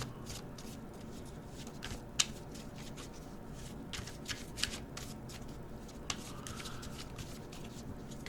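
Oracle cards being shuffled for a tarot-style reading, a steady papery riffle and slide running throughout at close range with a few sharper card snaps, no voices.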